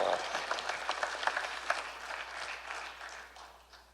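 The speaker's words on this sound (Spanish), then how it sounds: "Por lo menos las hermanas aplaudan." A church congregation breaks into scattered applause, brisk clapping that swells briefly and then thins and fades over a few seconds, with a faint voice underneath.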